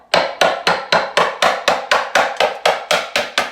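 The handle of a sledgehammer strikes something in a steady series of about fourteen sharp, loud, evenly spaced knocks, each ringing out briefly before the next, with no voices.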